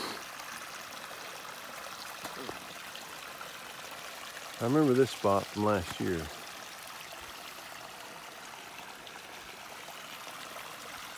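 A mountain stream flows beside a hiking trail, a soft continuous burble of water running in the background while someone speaks briefly partway through.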